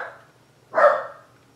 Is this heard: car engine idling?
no